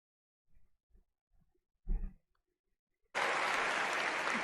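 Convention audience bursts into loud, sustained applause after a few scattered sounds and a short thump, the clapping filling the last second and a half.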